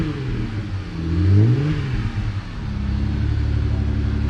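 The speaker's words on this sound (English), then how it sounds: "Give it a few revs." A 2020 Jeep Gladiator with a Magnum Flow exhaust revs up near the microphone, rising to a loud throaty peak, falling back, then holding a deep rumbling idle.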